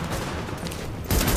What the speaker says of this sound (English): Screw it. I'm shooting.